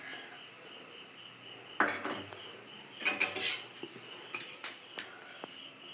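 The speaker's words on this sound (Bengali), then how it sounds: "গ্যাসটাকে অন করে দেব, কড়া বসিয়ে দেব।" A wok is set onto a gas stove with a couple of metallic clunks and clatters, followed by a few lighter knocks, against a faint steady background hum.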